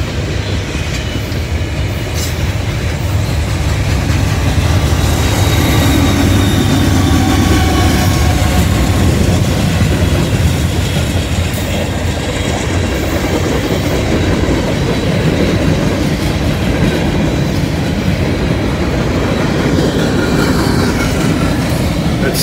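A freight train with a distributed power unit rolls past at night, loud and close, with a continuous roar of wheels and clattering railcars and no voices.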